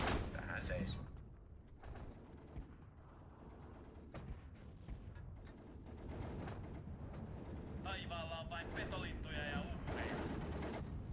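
Distant 105mm artillery fire in the World War II strategy game Steel Division 2, muffled booms and bursts scattered under ongoing game ambience and a faint high chirping, with someone talking over it.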